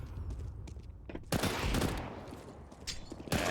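Pistol fire in a CS:GO pro match on the Train map, heard as a few sharp bursts and shots, with a loud volley around the middle and another near the end, over steady game background noise.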